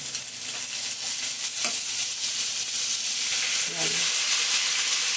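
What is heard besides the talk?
sisig frying and sizzling in a hot pan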